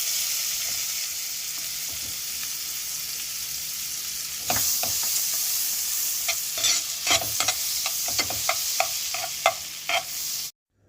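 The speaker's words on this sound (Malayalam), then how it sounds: "ബട്ടർ നല്ലതുപോലെ മെൽറ്റായ ശേഷം 2 ടേബിൾ സ്പൂൺ മൈദ കൂടിയിട്ട് നമുക്ക് പച്ചവാട പോകുന്നത് വരെ ഒന്ന് റോസ്റ്റ് ചെയ്തെടുക്കാം." Butter melts in a flat pan on a gas stove to start a white sauce, with a low sizzle at first, then a string of sharp spoon scrapes and taps as it is stirred.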